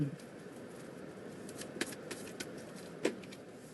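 Tarot cards shuffled by hand before a card is pulled: a steady papery riffle throughout, with a couple of sharper snaps standing out near the middle and end.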